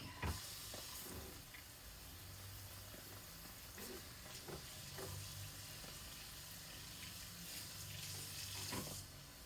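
Water running from a kitchen tap while a tomato is rinsed, a faint steady hiss with soft splashes and small clicks of handling throughout.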